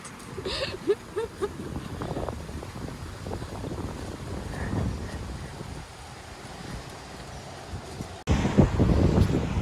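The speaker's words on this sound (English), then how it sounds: "It's very windy out." Wind buffets the microphone in a steady rushing roar outdoors, with gusts swelling louder toward the end.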